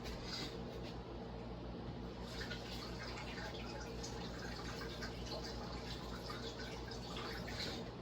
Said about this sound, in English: I'm gonna rinse them off.